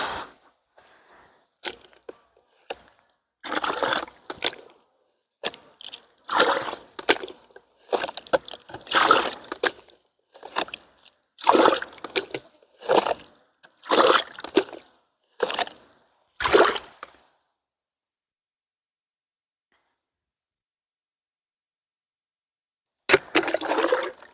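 Water is poured onto garden plants in a series of splashing, gurgling bursts that come and go for about sixteen seconds, followed by a long silence and one final splash.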